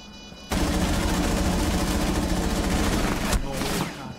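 Dense burst of video game gunfire shooting through a wall, a loud continuous crackle of rapid shots lasting several seconds under game noise, with a brief gap near the end before the firing resumes.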